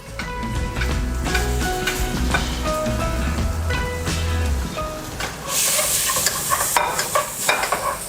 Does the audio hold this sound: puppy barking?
no